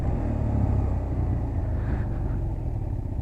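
Motorcycle engine rumbling steadily up close during a clutch-assisted downshift. A low, continuous drone with a slight change in tone partway through.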